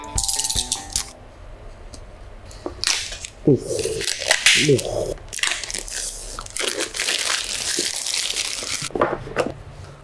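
Unboxing of a Realme GT 6 smartphone, with close crinkling, tearing and rattling of cardboard and plastic packaging in irregular bursts and a few scrapes and taps.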